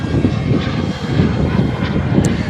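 Engine drone of an RC model airplane flying at the Joe Nall radio-control event, a steady buzzing hum that holds at a fairly even, moderately loud level throughout with no speech over it, outdoors on a breezy day.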